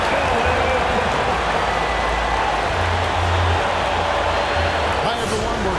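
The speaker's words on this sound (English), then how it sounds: "Another round of applause for your LA Clippers." A dense, steady roar of crowd applause and cheering fills an NBA 2K video game basketball arena as the LA Clippers home team is introduced, continuous and loud throughout with a faint voice underneath.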